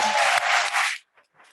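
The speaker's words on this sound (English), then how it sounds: "let's give her one more round of applause" An indoor audience at a staff service award ceremony gives an award recipient a dense round of applause for about a second, then it stops abruptly and a voice starts.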